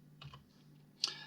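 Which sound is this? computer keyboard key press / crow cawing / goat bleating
computer keyboard key press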